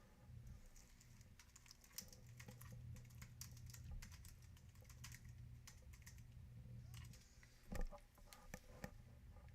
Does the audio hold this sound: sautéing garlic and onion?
no